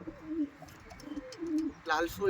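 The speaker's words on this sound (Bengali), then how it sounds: "আন্ধ্রা পায়রা" Soft, repeated low cooing of Andhra pigeons close by, a few rolling coos in quick succession, with a faint voice and light background noise.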